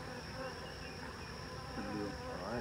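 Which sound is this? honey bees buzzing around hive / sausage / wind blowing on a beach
honey bees buzzing around hive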